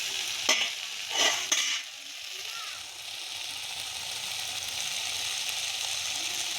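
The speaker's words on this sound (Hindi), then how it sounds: "सब्जी ला अच्छे से मैं करछुल में चला ले हूँ" A ladle stirs vegetable curry frying in oil, with a few distinct scraping strokes at first, followed by a steady, soft sizzle that carries on alone.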